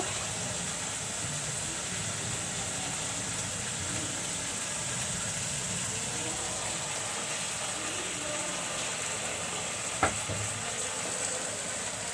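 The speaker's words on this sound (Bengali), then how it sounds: "তো আমি এখন কচু শাকগুলা দিয়ে দিব।" Taro leaves fry with hilsa fish in a steady, unbroken sizzle that sounds almost like a hum, with a single sharp clink near the end.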